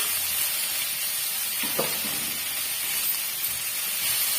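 Coconut pieces and tamarind sautéing in a pan for radish chutney, a steady soft sizzle and hiss with a brief stir or clink partway through, close and alone.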